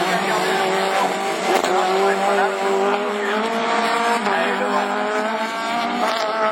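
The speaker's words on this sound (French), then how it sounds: "Et joli là-bas, Laurent Delbosse au freinage." Rallycross race cars at a Division 4 event in Lessay, engines screaming under hard acceleration and braking with tire noise, a commentator talking over the racing.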